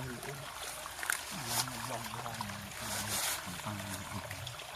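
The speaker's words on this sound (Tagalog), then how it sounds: "Oh, malakas ang tubig." Fast-flowing stream water in a rural province setting, a steady broadband rush close by with someone talking over it.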